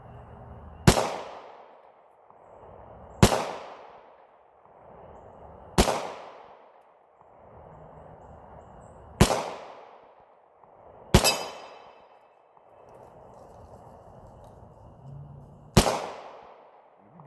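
Glock 22 .40 caliber pistol shots ringing off a steel target plate, six sharp cracks spaced a couple of seconds apart, each with a bright metallic ring and short decay, outdoors with no talking.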